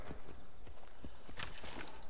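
Hooves clop rhythmically as a horse is ridden in Assassin's Creed Odyssey, a short run of close, moderately loud footfalls in quick succession.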